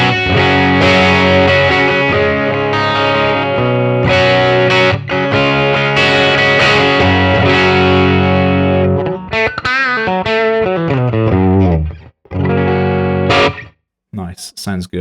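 Electric guitar with a twangy country tone shaped by Nano Cortex effects, playing continuous chords and melodic runs with slight distortion and chorus, loud and up close, ending in a few sparse picked notes.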